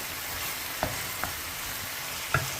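Garlic with green and red peppers fry in a pan for saç kavurma, a steady sizzle broken by a few sharp scrapes and clinks of stirring, close up and without speech.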